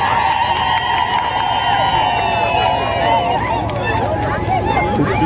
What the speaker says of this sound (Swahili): Tumshangilie kwa makofi wananchi.